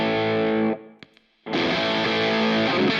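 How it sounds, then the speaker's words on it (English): Electric guitar played through a Choob Dreamer overdrive pedal for a boosted Marshall-style tone, a sustained distorted chord that cuts to near silence with a few faint clicks, then a thicker saturated chord rings out loud and close. "this is going to give me a more of a boosted Marshall kind of sound"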